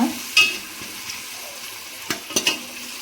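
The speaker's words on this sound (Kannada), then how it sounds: "ಈಗ ನಾನು ಮಸಾಲ ರುಬ್ಬಿರೋದು ಹಾಕ್ತಾಯಿದ್ದೀನಿ, ಅದನ್ನು ಇದ್ರ ಜೊತೆ ಸ್ವಲ್ಪ ಬೆನಿಲಿ" Ground masala paste for palak pulao sizzles quietly in a pan while a spoon stirs and scrapes against it in a few sharp clinks, near and fairly soft, without talk.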